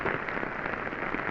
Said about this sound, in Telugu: చూడండి, ఏం వర్షం ఇది! మామూలు వర్షం కాదు